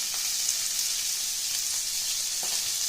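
Pepper sauce for T-bone steak bubbles gently in a pan over heat, producing a soft, even sizzling hiss with faint pops, quiet and steady without talk.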